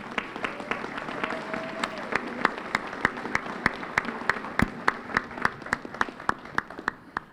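Scattered applause from an audience at a Cleveland mayor's town hall, with individual claps ringing out in a steady rhythm over a murmur of voices and some talk.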